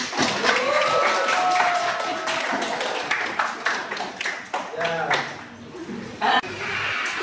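A classroom group claps for group 3 during a lesson, with scattered sharp handclaps and light laughter mixed under a teacher's ongoing talk.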